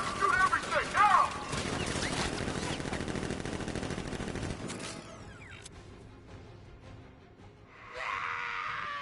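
Guards open fire in a Batman video game, with sustained rapid automatic gunfire rattling loudly for several seconds. Shouting sounds over it, then the shooting stops and quieter game sounds follow.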